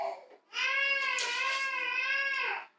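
A young child wails in one sustained, high-pitched cry lasting a couple of seconds, fairly close, with no talking over it.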